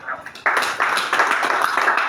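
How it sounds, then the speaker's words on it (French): Congregation applause at a church service, starting abruptly after a brief quieter moment and continuing as dense, steady clapping; a voice may be faintly present underneath. "Applaudis pour toi-même."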